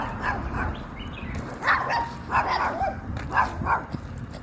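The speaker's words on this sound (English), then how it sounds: "Well, they're small and they're behind a gate." Several small soi dogs barking behind a gate in Chiang Mai, a string of sharp yaps and yips at moderate distance over street background noise.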